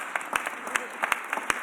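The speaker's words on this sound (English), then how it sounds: "Can we give that a round of applause," A brief burst of crowd applause, many hands clapping in a dense patter with a few sharper claps standing out, moderately loud and fairly close.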